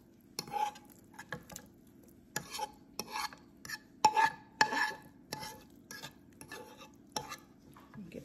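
Sautéed onions, bacon and garlic are scraped from a pan into a pot for collard greens, with a spoon knocking and scraping in irregular bursts against quiet gaps, close by.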